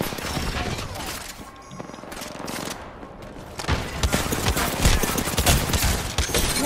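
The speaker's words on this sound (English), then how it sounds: "Who's shooting you, Kofi?" Video game gunfire in an arena match, rapid bursts and volleys crackling loudly across the clip, thinning briefly in the middle before a heavier barrage.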